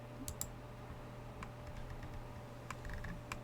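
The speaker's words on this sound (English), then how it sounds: "Oh, you can hear my mouse." Sharp computer mouse clicks, a few scattered taps with quiet gaps between, close and crisp over a steady low electrical hum during a drawing session.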